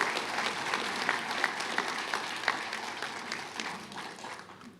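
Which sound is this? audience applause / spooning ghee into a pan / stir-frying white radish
audience applause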